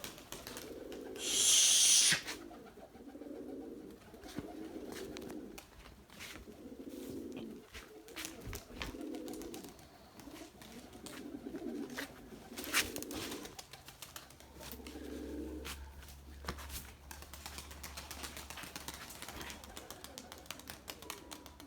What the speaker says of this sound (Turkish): Bakın terbiyeli kuşlarıma bakın arkadaşlar.